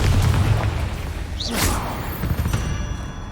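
Confringo, an explosive fire spell in Hogwarts Legacy, goes off as a deep, booming blast with a whooshing burst, loud and near, followed by a rumbling tail that fades over a few seconds.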